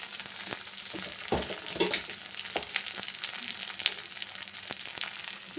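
Spices with turmeric and Kashmiri chilli powder frying in hot oil for a vegetarian curry, a close crackling sizzle with scattered sharp pops and scraping stirs, no speech.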